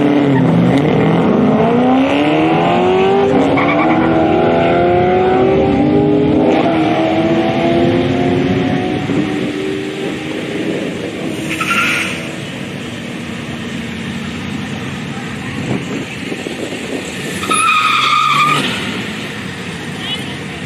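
Cars drift and skid during grudge racing eliminations at Powercruise Sydney, engines revving and rising loudly up close with tire squeal, then fading into a distant roar; voices talk over the track noise.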